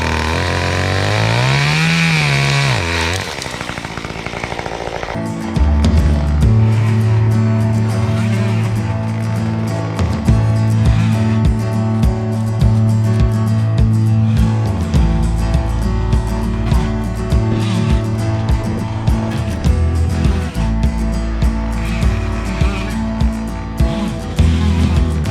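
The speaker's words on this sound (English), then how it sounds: "Got a Stihl 193T one-hand chainsaw," A Stihl 193T one-hand chainsaw revs up after a brief idle, then roars steadily and loudly close by, its pitch dipping and rising as it bites into wood while cutting trees off a fence.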